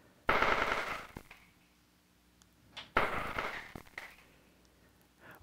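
Two bursts of a harsh, crackling synthetic sound, each swelling suddenly then fading into a rattling tail, with a quiet gap between them.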